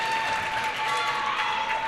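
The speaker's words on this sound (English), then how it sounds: "I think there's a few more Red Devil fans than Wolves fans, and they're making a ton of noise" Basketball crowd at a girls' region high school game between Evanston and Green River, a dense steady roar of cheering and noise filling the gym, continuous and loud throughout with no clear break.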